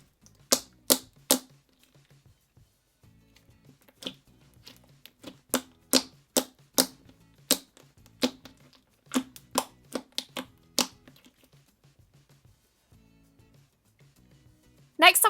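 Thick, clicky glitter slime being squeezed and poked, giving sharp crackling pops in quick clusters and scattered single snaps, close and fairly quiet with pauses between bursts.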